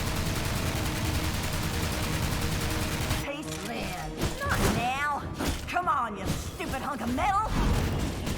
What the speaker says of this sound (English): her most dangerous skill is when she fires it like an automatic weapon. She'll keep shooting for 6 seconds during this attack.